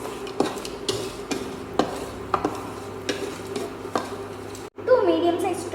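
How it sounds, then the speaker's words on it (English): Pulao ingredients, including a bay leaf and cashews, are stirred in a pan, giving repeated scraping and rubbing strokes with a light sizzle underneath and a brief break near the end. "Now I am giving it a mix"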